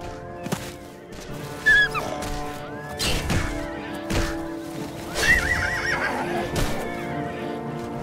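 A horse whinnies a few times over thudding hoofbeats and sharp impact sounds in The Elder Scrolls IV: Oblivion, with game-like effects and a steady background hum.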